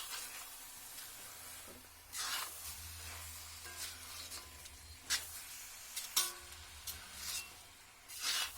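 Small chopped pieces of chicken fry quietly in a pan for a Kerala chicken thoran with roasted coconut, a soft sizzle broken by intermittent scraping stir strokes at an irregular pace, close but faint.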